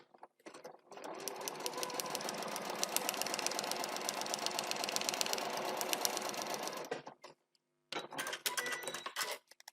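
A sewing machine runs steadily through a seam allowance for about seven seconds, stops briefly, then starts again for a shorter burst; close, loud and mechanical with no talking.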